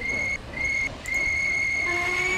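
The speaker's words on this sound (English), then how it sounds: "Oh, that whistle is the sign for us to go." A steam locomotive whistle in a Roblox steam-era railway game sounds in long sustained blasts with brief breaks, steady and clear over low background rumble.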